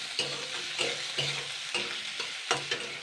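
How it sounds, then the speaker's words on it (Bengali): Chopped onion, garlic and tomato fry in a pan under a steady sizzle, with rhythmic spatula strokes scraping the pan about every half second, up close. "এবার আমি পেঁয়াজ কুচানো, রসুন কুচানো, টমেটো কুচানোটা দিয়ে দিচ্ছি। এটা দিয়ে আমি জাস্ট 2 মিনিট নাড়াচাড়া করে নেব।"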